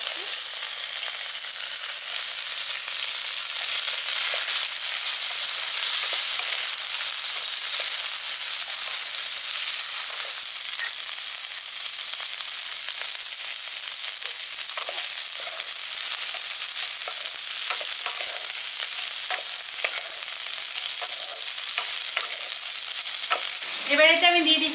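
Small pieces of chopped cauliflower fry in a pan for a village-style Rajnondini polao, giving a steady, continuous sizzle and hiss with faint scraping from stirring throughout.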